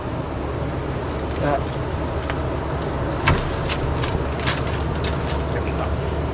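Strong wind buffeting the microphone on Port Aransas Beach in Texas beside a parked camper van, a constant loud broadband rush with a few gusty bumps and faint voices underneath.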